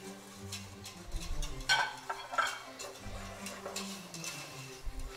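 A spoon stirs a thickening sauce of flour, milk and cream in a pan, with soft scraping, light clinks and a faint bubbling underneath, steady and close.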